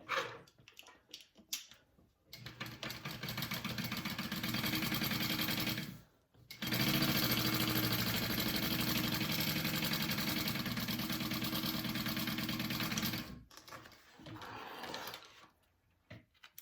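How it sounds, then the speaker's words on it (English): A sewing machine stitching the top edge of a slip pocket for a bowler bag, running in two long steady buzzing stretches with a short pause between, plus short start-stop bursts at the beginning and end, fairly quiet. "I'm gonna sew this top edge at a 3/8 inch seam allowance for my slip pocket"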